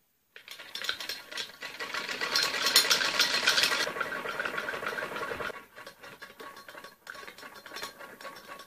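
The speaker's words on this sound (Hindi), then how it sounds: "हमें थोड़ी सी आधे इंच से भी कम सिलाई ऊपर लास्टिक के ऊपर लगानी होती है" A sewing machine stitches above the elastic on a trouser waistband, a fast rattling whir running for a few seconds, then pausing and resuming in shorter runs.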